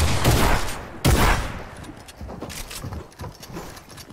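Gunfire in a video game: two loud bursts of shots crack out close and harsh, the second about a second after the first, then fade into softer scattered pops and rattling.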